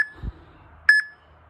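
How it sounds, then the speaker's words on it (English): A Tabata workout timer app gives a clear electronic beep, preceded by a faint tonal blip and a soft low thump, in an otherwise quiet room. "So it will tell you to get ready and it will beep."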